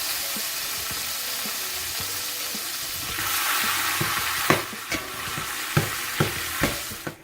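Four pounds of ground beef sizzles in a big skillet, a low frying hiss that swells partway through, joined by a series of close, distinct spatula scrapes and knocks against the pan.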